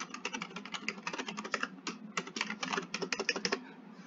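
Rapid typing on a computer keyboard while entering login credentials, dense clusters of close, crisp key clicks with brief pauses between bursts.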